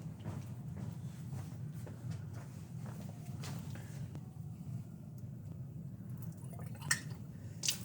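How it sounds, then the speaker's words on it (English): Water runs into a lab test tube, a faint trickle with a few drips over a steady low room hum, ending in a couple of sharper clinks. "So I want to fill my test tube all the way up"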